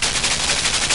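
Cannon fire in the side-scrolling puzzle game Limbo: a dense, continuous burst of booming shots, loud and close, filling the whole second with no speech.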